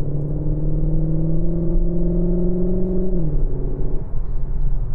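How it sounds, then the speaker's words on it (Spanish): Engine note of a 2021 Cupra Leon Sportstourer Hybrid in Sport mode: a loud, steady droning hum with sustained tones that dip in pitch near the end, heard close from inside the car. "el coche además en modo Cupra y en el modo Sport convierte el sonido"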